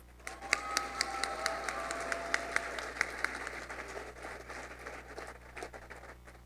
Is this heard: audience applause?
yes